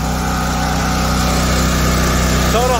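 A WEN 56475 electric-start generator with a nearly new engine runs with no load, giving a loud, steady close hum with a constant low drone.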